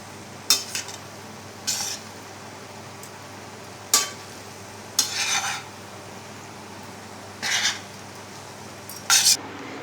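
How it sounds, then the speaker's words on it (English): Chicken chow mein being tossed with a spatula in a pan: six or so short scraping, clattering strokes spaced irregularly over a quiet background, each brief and fairly close. "This type of a spatula will also help you to mix the ingredients."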